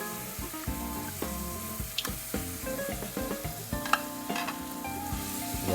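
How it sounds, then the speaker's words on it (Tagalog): Mussels (tahong) sizzle and fry in a pot for tinola while being stirred, with steady crackling and scraping clinks throughout, up close and without talk. "Ayan, haluin natin siya"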